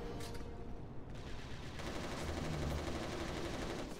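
Rapid gunfire in the PS5 shooter Resistance Retribution: a fast, continuous rattle of shots sits over a busy low rumble, steady and fairly quiet in level, with no voices.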